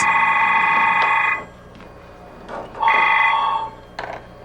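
Telephone ringing indoors, two loud electronic trilling rings separated by a short pause, close and clear.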